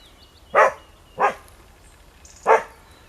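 A dog barks three times at a car, sharp separate barks spaced apart, moderately close over a quiet background on a permaculture farm in Ireland.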